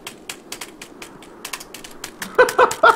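A computer keyboard key is hit over and over during a gaming stream, a quick, uneven burst of sharp clicks that grows louder and harder in the last half-second.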